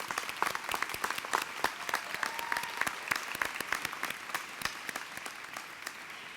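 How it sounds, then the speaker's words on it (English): Audience applause at a 2014 law school commencement ceremony, steady clapping from a large crowd with sharp individual claps standing out, sustained throughout at moderate distance. "can you please give these folks in the audience a round of applause?"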